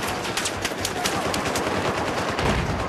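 Sustained automatic gunfire in the video game Battlefield 4, dense overlapping bursts of shots that stay loud and continuous throughout.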